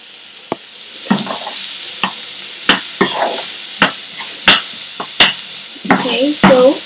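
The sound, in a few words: stirring and frying prawns with curry leaves in a pan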